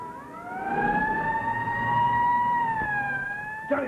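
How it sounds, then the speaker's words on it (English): Police sirens wail steadily and loudly in a 1941 film scene as cars arrive for a raid, a sustained rising-then-level tone with engine rumble underneath and a brief knock near the end. "They shouldn't have came out with the sirens."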